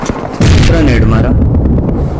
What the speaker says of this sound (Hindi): ग्रेनेड मारा